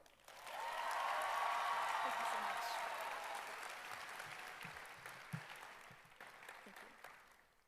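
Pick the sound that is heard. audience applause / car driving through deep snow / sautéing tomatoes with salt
audience applause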